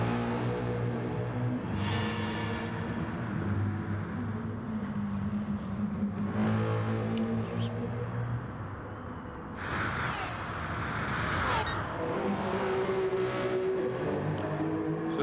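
Race car engine in a racing video game, a sustained loud harmonic whine that rises and falls with gear changes and surges, with brief rushing bursts of wind or tire noise, continuous throughout.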